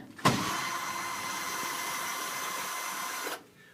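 A power tool whirs steadily for about three seconds while undoing screws on a Harbor Freight sandblast cabinet, starting with a sharp click and stopping abruptly, close and fairly loud with no talk.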